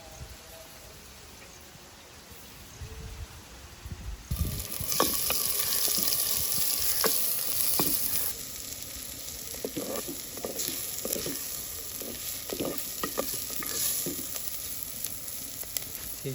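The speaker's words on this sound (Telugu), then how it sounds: "అబ్బాయి నూనె వేడెక్కింది, ఉల్లిపాయలు వేసుకుంటున్నానా." Onions dropped into hot oil for a toddy palm chicken dish, a sudden loud sizzle that then settles into a steady crackling fry with occasional stirring clinks.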